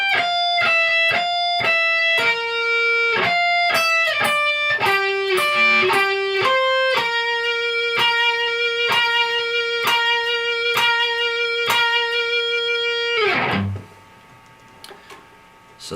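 Electric guitar plays the intro riff of a song: a clean sequence of picked, ringing notes moving through several pitches, then a sustained repeated note pattern ending with a sharp downward squeal and silence.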